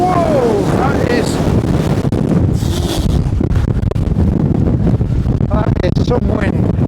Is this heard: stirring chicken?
no